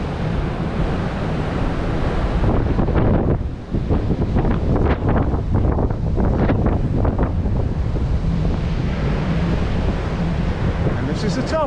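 Strong wind gusting across a hilltop and buffeting the microphone in a steady roar with rumbling low surges throughout, with a voice speaking briefly.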